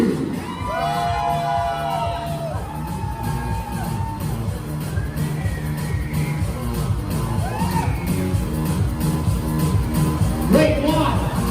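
A bodybuilding seminar crowd screams, whoops and cheers loudly and continuously, with high-pitched shouts and yells rising over a dense roar of many voices.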